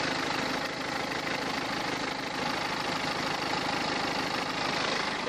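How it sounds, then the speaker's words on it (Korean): The 2015 BMW 320d diesel engine idles with the hood open, a steady close-up clatter and hum holding an even, continuous tone with no voices over it. "네, 이 엔진 소리 한번 들려드릴게요."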